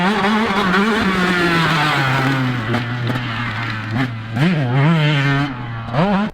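A motorcycle engine on a rough downhill trail holds a steady mid-pitch drone, then revs rise and fall in quick surges as gears are shifted down near the end, loud and close throughout.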